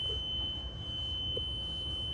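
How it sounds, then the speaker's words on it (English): A steady high-pitched electronic warning tone sounds continuously from a Yamaha with its key switched on and no oil in the oil tank, held at an even level over a low background rumble. "so we're gonna get a beeping sound."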